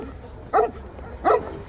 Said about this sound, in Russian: Кирилл, Кирилл, подержи собаку